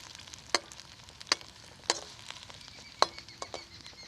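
Finely chopped onions fry in hot oil in a karahi, a steady close sizzle broken by a few sharp crackles and pops spaced about a second apart.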